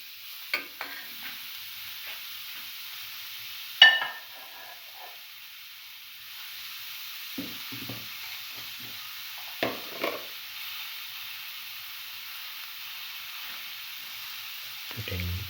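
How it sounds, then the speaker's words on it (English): Chicken liver pieces stirred into a creamy coconut mixture in a pan, with quiet scraping strokes and soft sizzle over a low steady hiss, a few sharper utensil knocks scattered through, no talking. "Mixing the mixture with the liver pieces."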